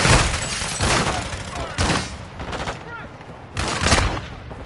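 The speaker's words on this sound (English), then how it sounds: "still getting shot by the guy with the automatic shotgun" Rapid bursts of automatic shotgun fire from Call of Duty Warzone on Ashika Island, loud repeated blasts in clusters with battle noise between them and no talk.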